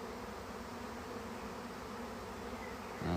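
A dense swarm of honey bees buzzing all around a bait hive, a continuous close, even hum from many insects with no voices.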